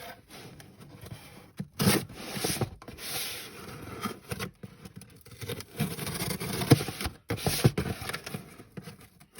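A knife slicing through the tape and cardboard of a box holding an Eotech EXPS3 holographic sight, heard as close, uneven scraping and rubbing bursts with brief gaps, no speech.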